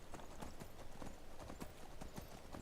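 Horse hooves in Skyrim clip-clop in a steady, fast rhythm, close and continuous, over a low game ambience.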